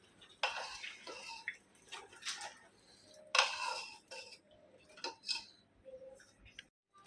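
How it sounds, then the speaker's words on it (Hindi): A spoon clinks and scrapes against a metal bowl or pot while stirring spices into homemade yogurt, with several distinct bursts of clatter separated by quieter pauses, close and fairly soft, no talking. "अभी अच्छे से दही के अंदर में मिक्स करेंगे"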